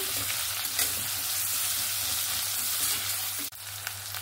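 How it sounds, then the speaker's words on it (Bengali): Chopped onions with four slit green chillies fry to a reddish brown in a pan, a constant moderate sizzle with light stirring and a brief clatter near the end. "দিয়ে আমি পেঁয়াজটাকে সুন্দর লাল লাল করে ভেজে নেব।"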